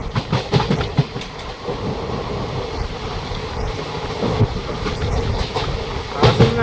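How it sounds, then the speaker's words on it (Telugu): A passenger train on a journey from Goa to Guntur rolls along the tracks, a steady loud rumble with rhythmic clickety-clack of wheels over rail joints, heard from close by with wind noise and no talk. "మన ట్రైన్ వెళ్ళిపోయాక అది కూడా వెళ్ళిపోయింది."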